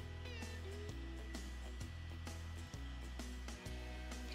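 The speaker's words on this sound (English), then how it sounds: "just turn the whisk on low" An electric mixer on low whisks eggs into cookie batter, a steady close motor hum with a rhythmic pulse and brief dips as the beaters turn, with no one speaking.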